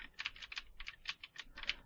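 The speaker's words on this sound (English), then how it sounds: "the keyboard" Rapid computer keyboard typing picked up by a Creative Sound BlasterX H6 gaming headset microphone, a steady run of crisp key clicks at moderate level with faint background hiss and no voices.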